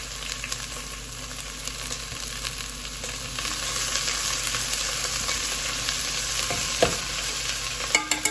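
Sliced onion frying in a kadai makes a continuous close sizzle that swells slightly as it goes, with occasional stirring scrapes and a few sharp taps at the end.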